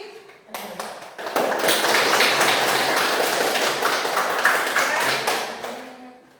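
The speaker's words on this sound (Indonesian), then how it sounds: "Tepuk tangan untuk kelompok 3." A classroom bursts into applause for a group of students, dense clapping that swells after a brief lead-in, holds strong for several seconds and then tapers off.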